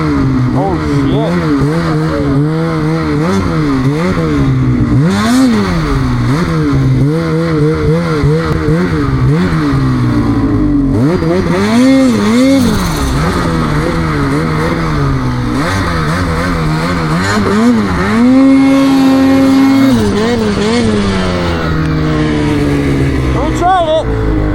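A snowmobile engine revs up and down in rising and falling surges, loud and close throughout, while people talk over it.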